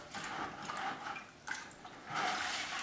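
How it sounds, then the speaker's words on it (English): Water splashing and dripping as rattan cane soaks for weaving a bar stool seat, with broad watery noise swelling and fading in a few bursts, close and fairly quiet, no voices. "just soak it a little bit in water"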